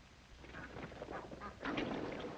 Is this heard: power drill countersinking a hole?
no